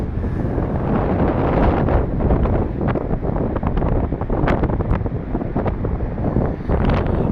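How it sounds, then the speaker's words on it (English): Sea and wind on a Cornish beach facing St Ives, a loud continuous roar of surf with heavy gusting wind buffeting the microphone, no voices. "Listen to that sea."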